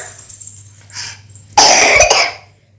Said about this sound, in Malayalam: ചുമ വന്നു